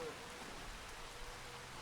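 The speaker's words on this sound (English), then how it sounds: "It's a rainy morning, rainy September morning" Steady, quiet patter of rain across a misty morning landscape in the Farming Simulator game, an even broadband hiss with no breaks, faint and continuous throughout.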